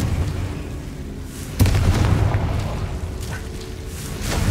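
A Confringo blasting spell bursts in the Hogwarts Legacy video game, a single sudden boom that hits hard and then rumbles low beneath a steady game soundscape.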